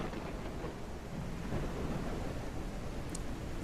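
Steady thunderstorm in the zombie survival game Surroundead, with heavy rain hissing and a low rolling rumble of thunder, broad and continuous, heard from shelter.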